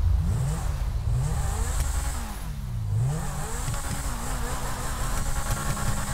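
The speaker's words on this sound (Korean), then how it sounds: "아따, 엔진 소리 지긴다." A Lamborghini police car in GTA 5 revs its engine, the pitch rising and falling in repeated surges over a constant roaring drone, loud and close throughout.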